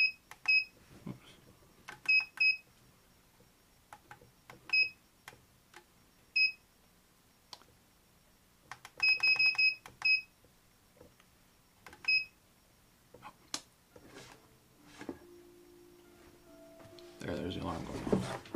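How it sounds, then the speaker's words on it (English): A reviewed device's alarm beeps in short repeated bursts of high electronic tones, sounding in irregular groups amid handling clicks and rustles, fairly quiet and close, with louder rustling toward the end. "There's the alarm going off."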